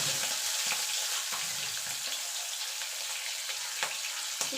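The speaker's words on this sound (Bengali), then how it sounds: "চিংড়ি মাছটাকে একটুখানি হালকা করে ভেজে নেব।" Shrimp frying lightly in hot oil for a taro-leaf and shrimp dish: a steady, close sizzling hiss with occasional sharp pops and spatters, no voices.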